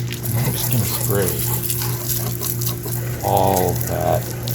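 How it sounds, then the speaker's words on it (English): A pump sprayer mists water over a car engine during engine cleaning, a close steady hiss of liquid with short gushing bursts toward the end, over a constant low hum. "This is the best little sprayer because you can totally control how much water and where it goes."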